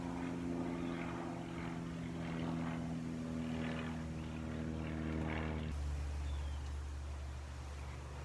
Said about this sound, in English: another plane just decided to fly overhead